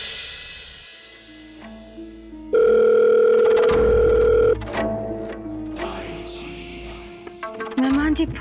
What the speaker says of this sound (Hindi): मेहमान जी फोन ही नहीं उठा रहे हैं।